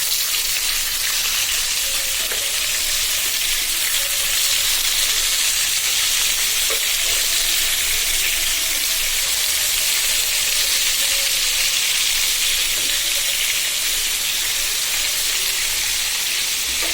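Flipped fish fries loudly in a pan of hot oil, giving a dense, unbroken sizzle at close range for the full length, with faint occasional clinks and no voices.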